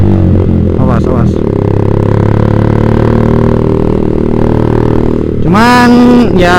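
Motorcycle fitted with a Proliner TR1 short exhaust, engine running steadily and loud, then a sharp rev rising and falling near the end, with a voice talking over it.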